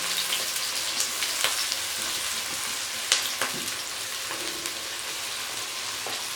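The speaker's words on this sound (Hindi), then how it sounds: "प्याज को मैंने थोड़ा सा बारीक बारीक काटा था और अब हम प्याज को फ्राई कर लेंगे" Chopped onions fry in oil inside a pressure cooker, giving a steady, close crackling sizzle with occasional sharper pops and no talking.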